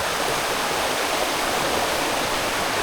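A river flows steadily through its deep stretch on a farm in Tayabas, a dense, even rush of water that stays close and loud from start to finish with no voices.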